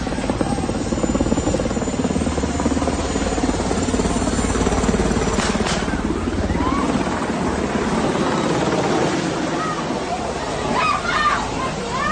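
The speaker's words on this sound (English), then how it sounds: "supposedly this is a helicopter that was a Black Hawk helicopter," A U.S.-provided Black Hawk helicopter roars continuously with a heavy rotor drone, while a babble of voices and splashing water sound beneath it throughout.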